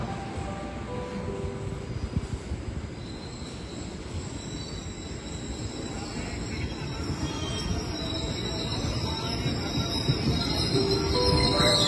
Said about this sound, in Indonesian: Jalur 7 diizinkan berangkat.